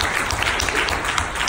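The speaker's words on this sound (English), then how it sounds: "I think you guys need to applaud that." Audience applause at a book conference panel, a steady broadband wash of many hands clapping for the whole short stretch, fairly loud and close with no break.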